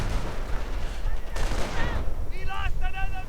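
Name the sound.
gunfire in a strategy video game battle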